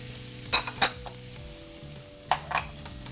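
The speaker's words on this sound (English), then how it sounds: "I add in the garlic and I saute it right until it turns quite fragrant" Diced onions and garlic sautéing in a warm pot: a quiet, low sizzle with a few sharp utensil scrapes and clinks against the pot, bursts coming in small clusters.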